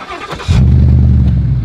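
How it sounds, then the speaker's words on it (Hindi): A V8 5-litre car engine cranks briefly and fires up, settling into a loud, steady, deep idle close by. "गाड़ी स्टार्ट कर।"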